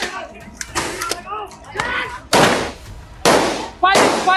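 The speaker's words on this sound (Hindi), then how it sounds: "फायरिंग" AK-47 gunfire from news footage shot in Siwan: several sharp, loud broadband cracks, two of them close together near the end, with people talking over and between the shots.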